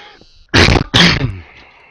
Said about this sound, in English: I need to not cough while I'm recording